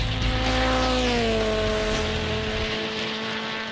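A Harper Type 5 race car with a 120 kW Toyota engine, weighing 650 kilos, screams past at a hillclimb, its loud, high-revving note dropping in pitch as it goes by and fades.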